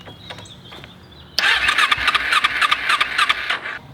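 A motorcycle engine cranking with the choke on, trying to start: after a quiet lead-in the starter kicks in abruptly with a whirring, pulsing rhythm that stays loud and close for a few seconds without catching.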